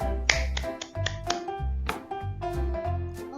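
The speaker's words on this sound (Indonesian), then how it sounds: "Tepuk tangan untuk kita semua." Children and a teacher clap together in a primary school classroom, beating out a quick rhythmic pattern of sharp, quiet claps with short pauses between groups.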